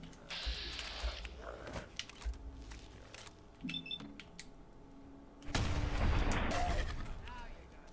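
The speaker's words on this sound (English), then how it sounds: "we got both of them in 2 shots, or well, 1 shot each" Gunfire from the Fallout 4 video game sounds as several sharp shots, followed by a dense, loud burst near the end, set over a low game background.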